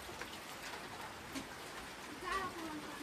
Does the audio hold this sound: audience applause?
no